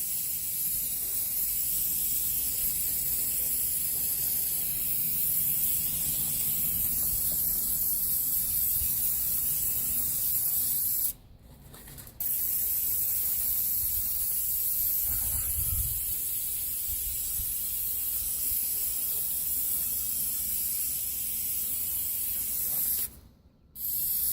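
Engine cleaner hisses from an aerosol can onto an engine bay in long, steady sprays. There are two short breaks partway through and near the end, and no one speaks.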